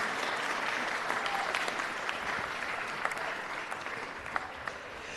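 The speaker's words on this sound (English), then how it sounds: "Let's give them a round of applause." A crowd at a city council meeting claps steadily and fairly loudly for young people, sustained applause filling the whole stretch without a break.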